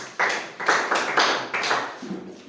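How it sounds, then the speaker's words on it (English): A small classroom group gives a short burst of clapping for two students, made of a few loud sharp claps in quick bursts that fade off after about two seconds. "Clap for 2 of them."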